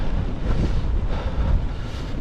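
Strong south wind on a snowy trail, a steady loud roar buffeting the microphone with no voices over it.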